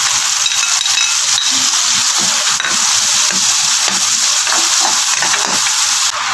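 Chopped onions sizzle steadily in hot oil while being sautéed for Filipino Jollibee-style sweet spaghetti sauce, a loud continuous frying hiss with occasional stirring clinks throughout.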